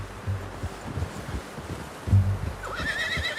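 Horse in the Red Dead Redemption 2 video game: soft low thuds and ambient rumble, then one clear, rising whinny near the end, moderately loud and close, with no talking.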